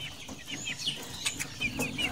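Chickens and roosters on a farm cluck and squawk in short, overlapping bursts, a busy flock close by with scattered sharper calls and no speech.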